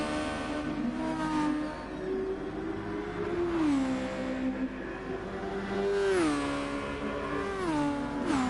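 Race car engine howling at full throttle in a racing video game during an FIA Nations Cup online race, holding a loud, steady roar with rising pitch sweeps as gears climb and brief dips at shifts, continuous throughout.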